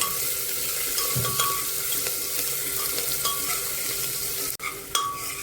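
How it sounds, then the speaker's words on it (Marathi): Finely chopped onion with green chilli sautés in oil in a pan, a steady close sizzle broken by occasional scrapes of a stirring spoon and a sharp clunk near the end. "परतून घ्यायचा कांदा चांगला."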